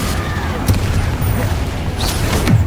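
Confringo spell explosions boom in the video game Hogwarts Legacy, loud, dense, continuous blasts and rumbles layered together, with a few faint cries mixed in.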